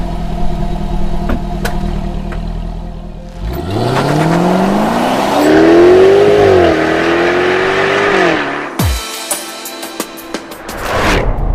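A supercharged 5-litre V8 in a 2020 Jaguar F-Type R revs hard from idle, climbing and holding a loud, rising snarl for several seconds before dropping off, with a sharp crackle and pop as the throttle closes.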